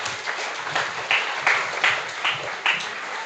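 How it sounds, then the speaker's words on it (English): Audience at a school ceremony for a graduating class applauds steadily, a dense crowd of hand claps with a few louder swells, heard alone without talk. "Join me in giving the school collectively, individually, a round of applause."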